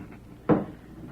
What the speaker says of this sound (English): Better make sure the door's barred tight.